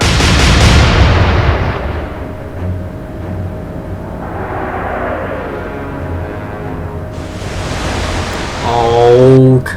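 Naval gunfire from a Royal Navy versus Kriegsmarine battle in the Atlantic Fleet video game: a loud booming salvo with rumbling noise and a roaring burst toward the end, no talk over it.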